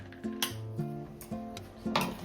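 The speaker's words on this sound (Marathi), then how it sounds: "तर मी आता कढईमध्येच हे सगळं काढून घेते" Utensil scraping a sesame-jaggery ladoo mixture into an Indian kadhai: several clattering metal scrapes and knocks in an uneven rhythm over a steady kitchen background, close and moderately loud, with no talking.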